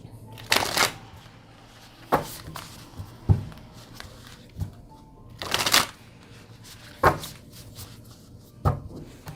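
A deck of tarot cards is shuffled close by in several short riffled bursts, separated by soft taps and handling noises.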